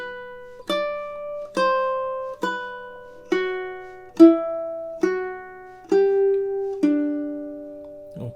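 Ukulele plays the melody of measures 5 to 7 of Satie's Gymnopédie No. 1, nine plucked notes spaced slowly and evenly, each ringing and decaying cleanly with no talk.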